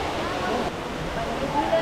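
Steady rushing wash of the indoor waterfall at Cloud Forest, Gardens by the Bay in Singapore, a constant broadband roar filling the space, with people talking faintly in the background.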